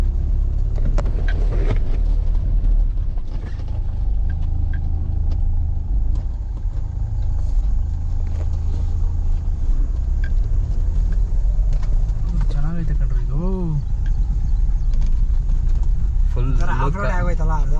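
A car driving off-road on a camping trip rumbles steadily with its engine droning throughout, under continuous talk from people inside, with a couple of brief higher whining surges as the wheels spin.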